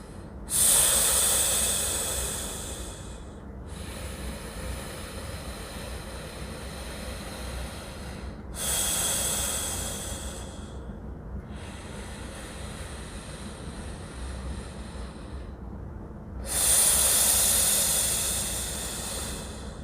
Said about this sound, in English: And I'm just gonna breathe here.